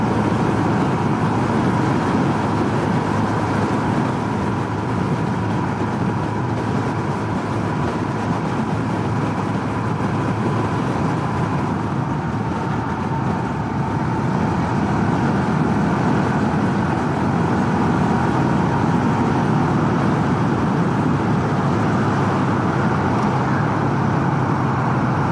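A Super Cub motorcycle held at full throttle into a headwind: a constant engine drone buried in loud, unbroken wind roar that continues without let-up.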